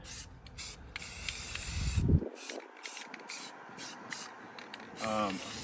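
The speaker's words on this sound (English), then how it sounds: "You want to kind of just lightly paint. Go too heavy, it'll streak." A spray can hisses in short bursts as a tan base coat is applied lightly to a rifle, then cuts off into quieter handling and clicking sounds nearby.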